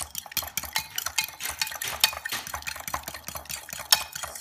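Eggs being briskly stirred in a bowl, a fast run of close, crisp clinking and scraping strokes from a utensil against the side, steady and rhythmic with no voices.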